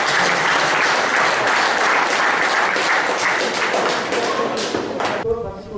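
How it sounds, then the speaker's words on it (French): Sustained applause from the crowd at a Charolais cattle show, dense and loud for several seconds, then thinning out near the end as a voice begins talking. "Vous pouvez l'applaudir"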